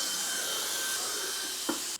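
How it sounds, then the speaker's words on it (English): A small vacuum cleaner runs over an apartment floor with a steady, loud whining roar, a brief knock near the end before the motor cuts off abruptly. "Let's vacuum the floors before it's too late."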